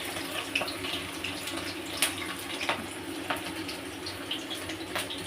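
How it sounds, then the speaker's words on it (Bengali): Chicken pieces sizzle in hot white oil in a wok for chicken rezala, a steady gentle frying hiss broken by occasional sharp spits and pops. "আমি একটা একটা করে চিকেনটা ভাজছি"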